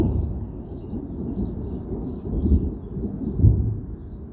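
Thunder rolls through a violent thunderstorm, a continuous low rumble that swells and surges twice, with rain hissing faintly underneath.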